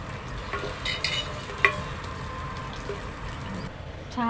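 Pomfret fish frying in a pan, a continuous close sizzle with a few sharp utensil clinks and taps, ending in a brief louder clatter, no talking.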